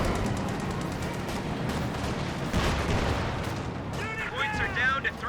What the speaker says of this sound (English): High explosive rounds into the Sherman Pioneers.